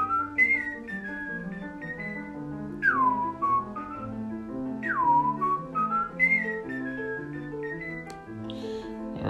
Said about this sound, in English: let's take a look at whistling.